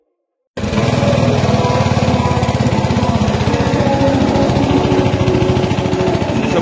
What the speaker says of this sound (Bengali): এটা ছিল ইঞ্জিনের আওয়াজ